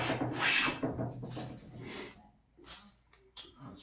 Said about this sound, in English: And let's rip off some shavings.